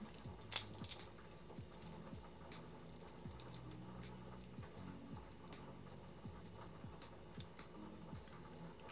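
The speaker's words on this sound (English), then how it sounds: "the sound of boiling potatoes" Potatoes boiling in a pot on a home kitchen stove, a steady low bubbling and gurgling that runs throughout with occasional small pops and clinks, fairly quiet and close, with no talking.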